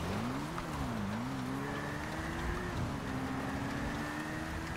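A car driving through snow in Grand Theft Auto V, a steady engine hum that rises and falls in pitch as it revs, heard alone with no talking.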